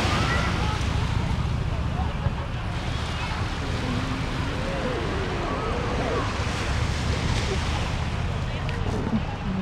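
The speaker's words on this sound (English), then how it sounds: "Beautiful waves." Ocean surf rolling onto Waikiki Beach in Hawaii, a steady broad wash of breaking waves with wind buffeting the microphone throughout, continuous and fairly loud, with faint voices in the background.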